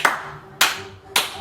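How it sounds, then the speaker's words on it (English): Three single hand claps spaced about half a second apart in a clap-along game, crisp and close with short room decay between them. "This is clap when I clap"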